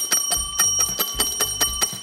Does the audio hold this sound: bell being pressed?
yes